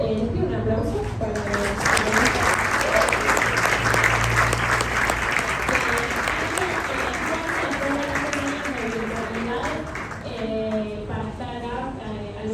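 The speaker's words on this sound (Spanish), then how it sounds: "Les pido un aplauso para" Sustained audience applause for panelists at an environmental report presentation, dense steady clapping from a crowd that carries on for over twelve seconds, with voices speaking over it throughout.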